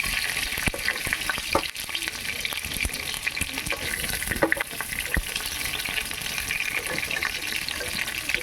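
Pieces of pointed gourd (potol) fry loudly in hot oil, giving a dense, continuous sizzle with scattered sharp crackles and the clicks of a utensil stirring and lifting them out. No one speaks.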